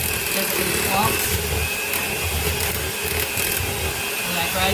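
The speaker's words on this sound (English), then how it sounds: "I use an electric mixer. It mixes it better." An electric hand mixer whips potatoes in a home kitchen, giving a loud, steady motor whir with a rattling, churning texture that runs the whole time, with a voice talking over it.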